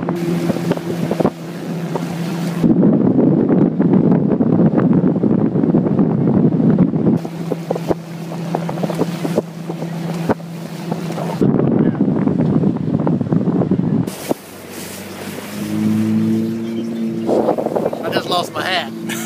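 A Yamaha AR-190 boat motors across Florida water, its engine drone running under heavy wind buffeting on the microphone, with someone talking over it at times.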